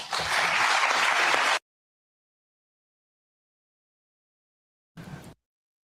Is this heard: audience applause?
yes